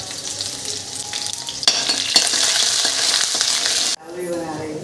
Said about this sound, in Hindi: सरसों को थोड़ा चटकने देते हैं